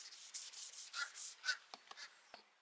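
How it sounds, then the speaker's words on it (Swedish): Wooden cabinet doors being sanded outdoors: a series of short, faint rubbing strokes in an even rhythm, then a few sparse light taps and scrapes as the work slows. "slipa och..."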